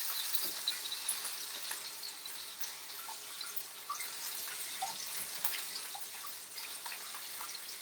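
Water runs steadily from a kitchen tap while something is washed during cooking, a constant hissing splash with small irregular drips and spatters throughout.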